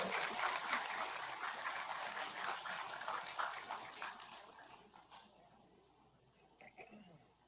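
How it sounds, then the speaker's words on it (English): Applause for an award winner at a school board meeting: a soft, steady patter of clapping that slowly tapers off and fades toward the end, heard alone without talk. "So a round of applause for him."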